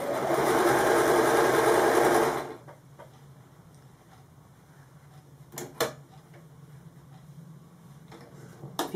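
A sewing machine stitches fabric in a fast, loud, even whir for about two seconds and then stops, followed by quieter clicks and handling noises.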